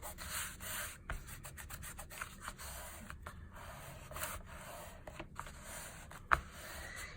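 Hand sanding a handmade journal cover, a soft, steady rubbing abrasion at low level with brief pauses and a few light taps, heard alone without talk.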